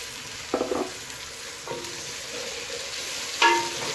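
Tomatoes tipped into a pan of frying onion, garlic and ginger, with a few distinct spoon scrapes and clatters over a soft background sizzle, no talking.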